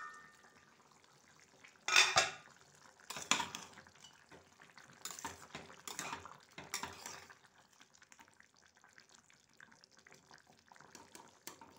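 A metal lid comes off a pot of potato-pea curry simmering on a gas stove, with a sharp clang followed by several lighter clinks and scrapes of utensils against cookware over a soft bubbling background.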